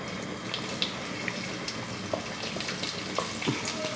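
Coconut pieces fry in hot coconut oil with fennel seeds, giving a steady soft crackle broken by small pops and spits. The sizzle sits close and continuous, with no one talking.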